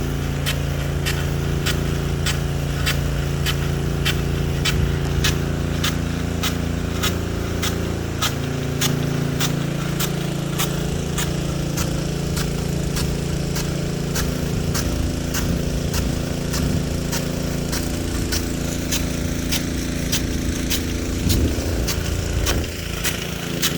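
A Rainbird 2-inch SR103 slow-reverse rain gun with a .70-inch nozzle runs on two pumps, giving a steady loud spray and pump drone with a regular, rapid ticking beat throughout.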